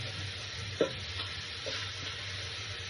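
Radish greens frying in a hot pan: a steady, close sizzle continues throughout, with a soft knock and light stirring scrapes as the leaves are moved around.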